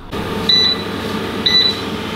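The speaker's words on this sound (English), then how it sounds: "And there we are, it beeped again." An air fryer beeps twice as its cooking timer runs out, two short, clear electronic tones about a second apart, close by over a steady background hum.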